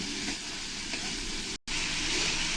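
Tomato and spices for a spicy quail meat curry frying in a pan, a steady close sizzle that drops out for a split second, then resumes just as loud, with no talking.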